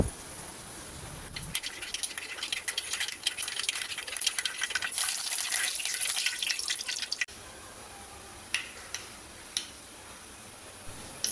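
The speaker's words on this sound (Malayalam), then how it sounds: "വെളിച്ചെണ്ണ ഒഴിച്ച് ഉലുവ കടുക് കറിവേപ്പില ഇതൊക്കെ ഒന്ന് പൊട്ടിച്ച് മൂപ്പിച്ചെടുക്കാം" Fenugreek, mustard seeds and curry leaves spluttering in hot coconut oil in a pan, a burst of dense crackling and sizzling that fades into scattered sharp pops over a quiet hiss.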